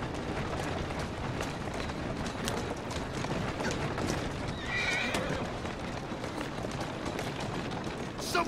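Horse hooves clip-clopping steadily on a street in the Assassin's Creed Syndicate video game, with a neigh partway through, all set against a constant dense bed of game ambience.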